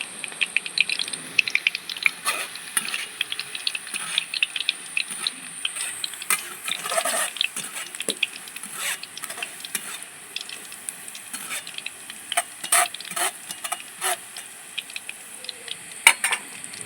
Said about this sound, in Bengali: এর মধ্যে আমি কিছুটা মুগ ডাল দিয়ে দিচ্ছি দেখুন এভাবে আমি নেড়ে দিচ্ছি দেখুন কত সুন্দর বাবলস উঠছে